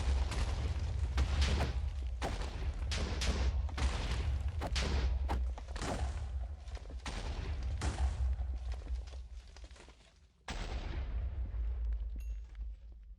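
Rapid bursts of explosions and booms from the Minecraft modpack Enigmatica 6, with a Wither involved, a dense rolling series of blasts that eases off, breaks briefly, then resumes.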